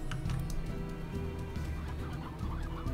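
Chickens clucking in the video game Slime Rancher, a steady run of close, overlapping clucks and fowl calls over low game ambience, with no talk.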